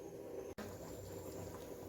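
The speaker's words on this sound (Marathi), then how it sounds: "भाजीला उकळी आली, आता मी कमी गॅस करून देते" A pot of fish curry comes to a boil over a gas flame, making a faint, steady bubbling simmer with one brief cut-out, and no talking.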